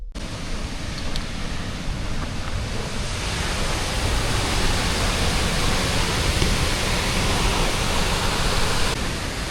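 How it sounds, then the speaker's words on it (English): A powerful, continuous roar of Christine Falls at Mount Rainier fills the air, loud and unbroken throughout. "It's one of the first waterfalls that you hit when entering the park."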